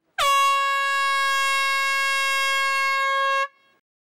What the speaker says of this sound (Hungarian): A verseny dudaszóra vette kezdetét, és 5 órán át tartott.